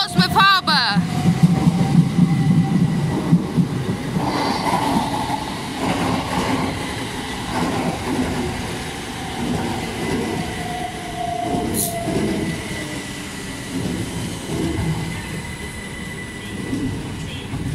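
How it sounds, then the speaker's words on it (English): Class 455 and class 377 electric trains approach through Clapham Junction station, a loud sustained rolling rumble with wheel noise and some squeal, close and continuous, while someone talks over it. "there's a class 455 approaching and a 377"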